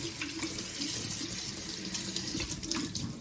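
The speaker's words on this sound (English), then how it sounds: "We're gonna add some cold water." Cold water runs steadily from a tap, a continuous splashing rush close by with no pauses.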